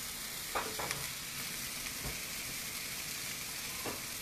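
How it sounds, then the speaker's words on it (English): Butter melting in a frying pan while breakfast is cooked gives a faint, steady sizzle, broken by a few soft clinks and scrapes. "Let's get some butter in our pan."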